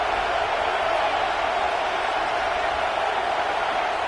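A stadium crowd roars in a steady, dense wash through the final period of a tight football game, with no single voice standing out.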